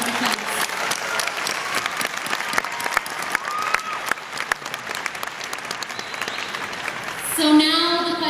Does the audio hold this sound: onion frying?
no